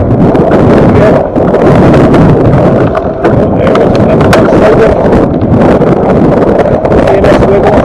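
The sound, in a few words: strong wind blowing over snow during fat bike ride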